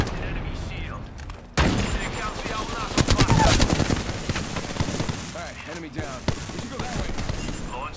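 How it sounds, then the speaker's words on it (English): Rapid bursts of automatic gunfire crackle in Apex Legends, dense rattling volleys with sharper single cracks, and a player's voice talks over the shooting. "I got shot in the back by somebody else."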